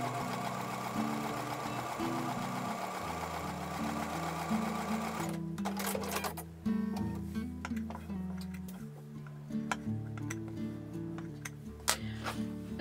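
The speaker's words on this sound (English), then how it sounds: "I'm going to take these over to the sewing machine and sew a 1/4-inch seam" A sewing machine sews a quarter-inch quilting seam on fabric, running steadily, its needle chattering in a fast mechanical rhythm over a low motor drone, stopping and restarting near the end.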